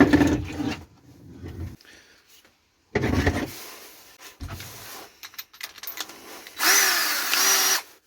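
A power drill with a diamond bit whirs in short bursts drilling a bonsai pot with a little water, starting and stopping several times, with a louder high-pitched grinding run near the end.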